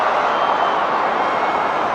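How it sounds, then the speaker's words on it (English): A packed cricket stadium crowd at an IPL match between RCB and Punjab Kings, a loud, steady wash of massed voices and noise with no breaks. "A lot of noise today in this crowd"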